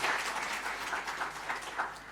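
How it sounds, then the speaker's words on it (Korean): Steady applause from a church congregation, many hands clapping continuously at moderate volume without pause. "박수로 우리 뜨겁게 환영하겠습니다"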